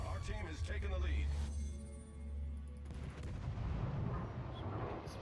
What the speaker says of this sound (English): Shots on the enemy, Charleston.